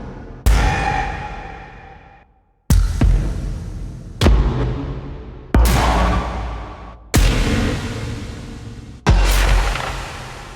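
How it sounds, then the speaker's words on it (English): A series of six sharp whooshing impacts, each hitting hard then decaying with a long tail, spaced a second or two apart with no other sound. "And listen to some of these Swoosh Bangs."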